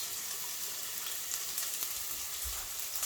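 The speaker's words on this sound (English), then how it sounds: "we're going to take the onions. Going to brown those off a little bit" Onions fry gently in a pan with cumin seeds, a soft, even sizzle that holds steady at low level, with a few faint stirring scrapes and no voices.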